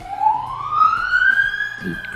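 Ambulance siren sweeping steadily upward in pitch as it passes fairly close, loud and continuous over low street rumble, with a brief voice near the end.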